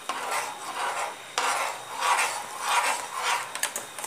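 Custard being stirred in a pot, a rough scraping rasp of the spoon against the pot bottom, repeated in uneven strokes, close and fairly loud with no talking.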